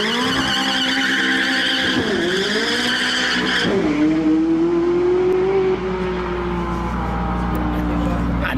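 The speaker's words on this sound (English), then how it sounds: "The burnout mode then, what you've just witnessed" A McLaren 675LT doing a burnout, its tires squealing loudly and continuously in a wavering, falling whine over the roaring engine, up close, with a voice speaking underneath.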